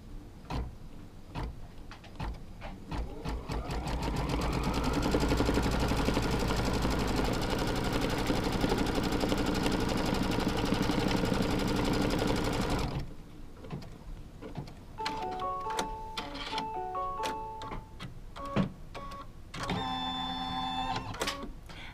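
Embroidery sewing machine stitching a quilt block, a loud steady mechanical whir and rapid needle chatter running for several seconds, then slowing into intermittent clicks and short tonal beeps, with no one speaking.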